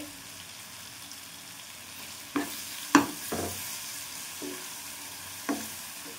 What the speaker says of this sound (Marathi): लाल तिखट छान परतून घेते.